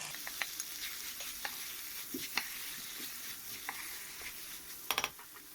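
Hot chili peppers and bell peppers frying in oil in a pan, a steady soft sizzle broken by scattered clicks and scrapes of a utensil stirring, with a brief cluster of sharper knocks near the end; no talking.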